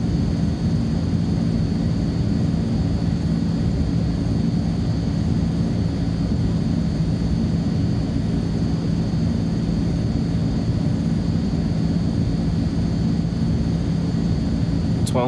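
Azurpoly C-160 transport aircraft taxiing in Microsoft Flight Simulator 2020, a steady loud droning engine hum with a constant tone that stays level for the whole stretch.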